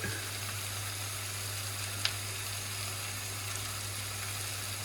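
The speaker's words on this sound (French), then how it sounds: "Et je mets mes aubergines. Donc, je vais les faire bien cuire." Eggplant with translucent onions fries in a pan, a steady soft sizzle that stays faint and even throughout, with one brief click partway and no voices.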